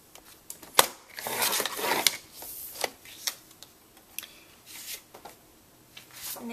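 Scissors trim a paper heart overlay for a handmade Valentine's Day card, giving a series of close, quiet snips and crisp paper rustles in irregular bursts.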